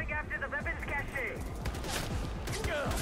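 Shotgun blasts and rapid gunfire from a Far Cry 4 firefight in the Himalayas, repeated sharp low thumps running steadily under a voice and game sound effects.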